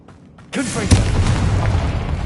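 Confringo spell blast in Hogwarts Legacy: a single sudden fiery boom bursting in after a moment of quiet, then a loud rumbling tail that carries on to the end.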